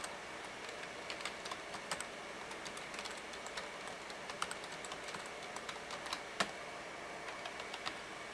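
A lengthy password tapped out on a computer keyboard at a network console, with steady, close keystrokes clicking in quick irregular bursts and a few sharper key hits, no voices.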